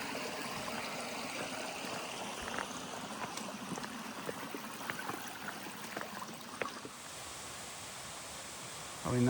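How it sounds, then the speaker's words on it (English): A small waterfall pours into a stream along a trail, a steady close rush of splashing water filling the whole clip without pause. "Little waterfall coming down."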